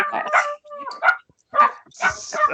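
Several dogs bark in irregular bursts, a few sharp yips and whimpering barks clustered close together, fairly near and loud, with gaps of silence between volleys.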